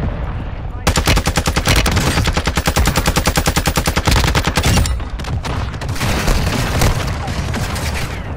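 Rapid automatic gunfire crackles loudly in a video game match on Ashika Island, a long sustained burst followed by scattered shots and booms in the distance.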